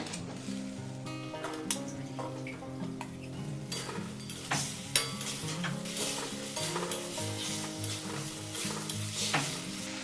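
Fried potatoes being stirred into spiced oil in a pan for a rohu fish curry with cauliflower and bori, with steady sizzling and repeated scraping and clinking of the spoon against the pan throughout.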